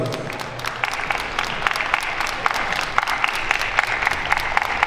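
Spectators at the Minsk Open Dance Festival 2019 ProAm Latin dance competition applaud steadily with sharp, dense clapping. It is fairly loud and continuous, with a faint crowd murmur and no speech over it.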